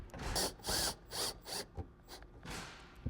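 Fasteners being snugged down on vented metal roof peak flashing over a panel rib, giving a string of short, fairly close ratcheting and driving bursts separated by brief pauses.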